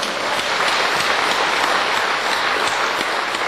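Church congregation applauding during a revival meeting, a steady, dense wash of clapping from many hands that holds at even loudness throughout, with no talk over it.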